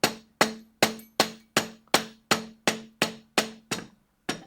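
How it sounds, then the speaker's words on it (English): Rubber mallet tapping a spindle into place on a Pearl drum part, about a dozen evenly spaced dull thuds with a faint ringing tone, close and alone, ending in a short pause. "Now take my big rubber mallet here, and I'm just tapping in on the front of the spindle."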